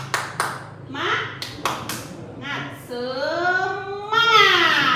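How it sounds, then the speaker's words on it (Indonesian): Children in a classroom do the 'tepuk semangat' clapping chant: a patterned series of sharp, close hand claps with short pauses between groups, followed by loud chanted voices. "Tepuk semangat"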